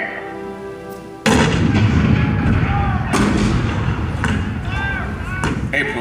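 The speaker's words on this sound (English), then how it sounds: "The cannon spoke for war, bitter, violent, and devastating." Cannon fire at Fort Sumter in 1861 booms in with a sudden heavy blast, followed by rolling rumbles and further distant shots, loud and dense against a staged show soundtrack.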